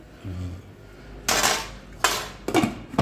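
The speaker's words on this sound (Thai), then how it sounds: "น้ำเดือดแรงแล้วเอาปลาลงเลยจึ๊บ" A few sharp splashy clatters as fish is dropped into a pot of strongly boiling water, then a lid knock as the pot is covered, against a low rolling boil.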